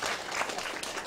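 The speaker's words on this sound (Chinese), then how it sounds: "咱个鼓掌一下" Seminar attendees give a short burst of applause during a closing lecture session: dense, steady clapping from a roomful of people, moderately loud and with no talking.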